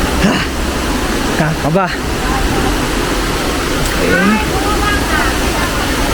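Cambugahay Waterfalls roar in a steady, loud wash of rushing water, with people speaking briefly over the constant noise.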